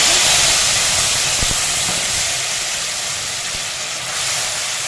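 Grated tomato tipped into a hot pan of spices frying in oil, producing a loud, continuous close hiss of sizzling that eases slightly over a few seconds.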